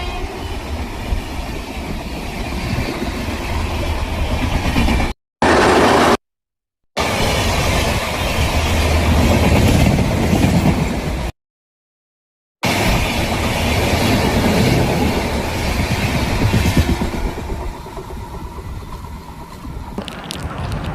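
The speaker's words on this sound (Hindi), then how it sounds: "नई दिल्ली से चलकर लखनऊ के बीच चलने वाली गोमती एक्सप्रेस। ओवरटेक कर रही है हमारी स्पेशल ट्रेन को।" Gomti Express running between New Delhi and Lucknow overtakes a special train, giving a loud, steady rumble of passing rail cars heard from on board, with brief dropouts and a slight easing toward the end.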